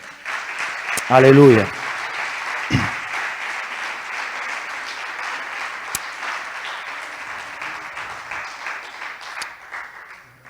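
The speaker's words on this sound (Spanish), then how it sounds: "Démosle un aplauso fuerte al Señor." A church congregation applauds loudly in a dense, steady wash of clapping that fades slowly, with a voice calling out over the start.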